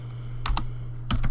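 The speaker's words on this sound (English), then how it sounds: "so you need to type this instead" A computer keyboard is typed on in a brief burst of four quick, close keystrokes over a steady low electrical hum.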